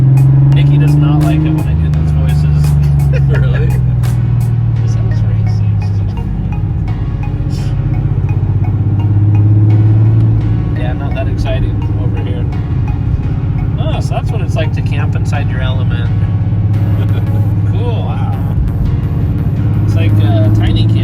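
A Porsche 911 Carrera Targa driving slowly around a neighborhood, its engine a steady low drone with shifting pitch, heard from inside the car while people talk over it.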